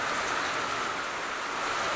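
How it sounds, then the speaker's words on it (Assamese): Rain falls steadily in an even, moderate hiss, continuous and unbroken with no voices. "এতিয়া বৰষুণ এৰাই নাই দিয়ে আছে"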